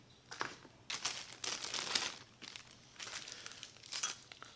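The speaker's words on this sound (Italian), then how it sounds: "Ora apriamo il sacchetto di quelli originali." Plastic packaging for original Milwaukee cutting discs, made for the M12 FCOT compact grinder, is torn open up close with several bursts of crisp crinkling and rustling separated by short pauses, and no talking.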